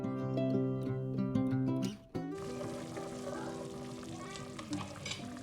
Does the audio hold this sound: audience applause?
no